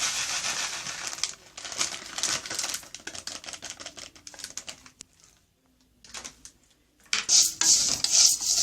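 Lisan al-asfour (bird's tongue) pasta being stirred in ghee and oil in a pot, a dense run of rapid clicking, scraping and clattering from a spoon against the pot, with brief pauses and a louder burst near the end.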